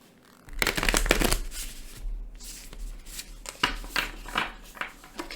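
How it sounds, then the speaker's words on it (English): Tarot cards are shuffled repeatedly close up, a series of crisp riffling bursts and soft flutters with brief pauses between. "And get one more good shuffle in here."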